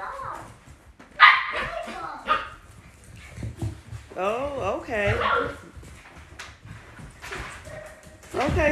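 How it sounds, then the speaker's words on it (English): Several puppies bark, yip and whimper playfully close by in a home kennel with a service dog nearby, short bursts scattered over steady talking from people in the room. "You scared of the puppies."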